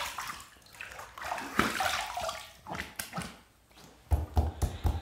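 Running water while a razor is rinsed mid-shave, a close, uneven splashing and gushing with short clattering taps near the end; no talking.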